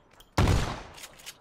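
A single sharp, loud burst of gunfire in the PUBG battle-royale game, a heavy crack with a short decaying rumble, followed by faint distant pops.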